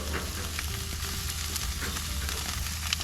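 Skewers sizzle in butter over high heat, a loud and steady frying hiss with crackling pops that runs without pause, close up and with no voices.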